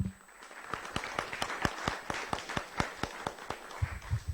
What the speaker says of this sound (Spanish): Bueno, démonos un aplauso colectivo.